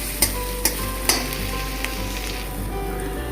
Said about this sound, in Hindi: मेरा ये जिंजर गार्लिक जो पेस्ट है वो पेस्ट भी अच्छे से फ्राई नहीं हो जाता